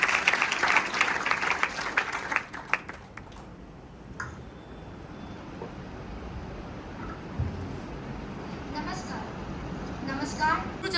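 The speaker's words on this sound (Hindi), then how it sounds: "जोरदार तालियों से उनका स्वागत कीजिए।" School audience at a Hindi debate competition claps to welcome a participant, a burst of applause for about three seconds that dies away into quiet room noise with scattered faint claps and murmurs.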